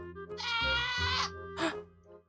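A baby goat screams in Minecraft with two loud, close, nasal bleats: a long wavering cry followed by a short sharp one, heard alone.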